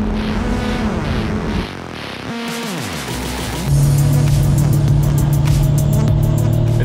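An exotic car driven through Car Week, its engine loud and close: revs sweep down as it shifts, then settle into a steady, heavy drone with a bright harmonic hum.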